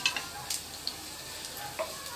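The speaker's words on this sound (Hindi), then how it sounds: "तेल हमारा गरम हो गया और इसमें डाल रहे हैं अब लहसुन" Garlic sizzles in hot oil in a pan while being stirred, a soft steady crackle with occasional scraping clicks, fairly quiet and close, and no one talks.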